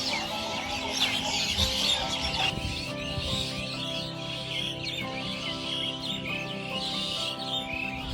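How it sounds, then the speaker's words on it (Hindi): Chickens cluck and a rooster calls close by, with other birds chirping in the background of an outdoor village setting. "बैकग्राउंड में आपको आवाज़ सुनाई दे रही होगी चिड़ियों की"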